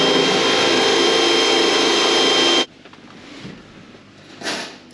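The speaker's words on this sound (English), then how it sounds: "Just drilling holes and stuff." A power drill drilling holes whines loud and steady for a couple of seconds, then cuts off abruptly, leaving faint rustling and a short later burst of noise.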